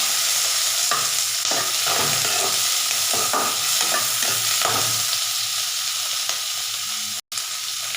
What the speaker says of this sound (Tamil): ஒரு துண்டு இஞ்சி போட்டுக்கலாம், 2-3 வரமிளகாய். இதை நல்லா வதக்கி எடுத்துக்கலாம்.